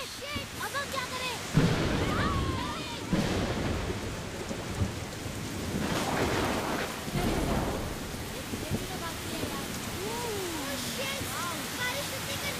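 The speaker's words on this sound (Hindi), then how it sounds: "बारिश रुकने का नाम नहीं ले रही है।" Heavy rain pours steadily while thunder rumbles and cracks, with voices talking faintly over the downpour.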